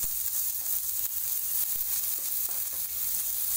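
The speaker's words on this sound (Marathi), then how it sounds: "आलं लसूण पेस्ट चांगलं हलवून घेऊया" Ginger garlic paste sizzles in hot oil in a pan with salted vegetables, a steady close frying hiss broken by faint scrapes and taps of stirring.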